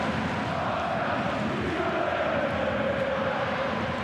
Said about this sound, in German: Und der Jubel mit den Fans.